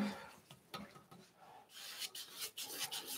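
Brush rubbing acrylic paint onto canvas, soft scrubbing strokes in bursts, close and quiet, with no talking.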